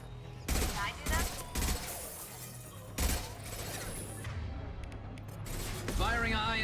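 Weapon fire from the video game Mass Effect 2: a few sharp, loud shots land in separate bursts, with a person talking over and between them.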